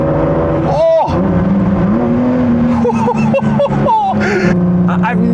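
A 2017 Ford GT's engine revs and rises in pitch through gear changes, loud and close from inside the car, while someone talks excitedly over it.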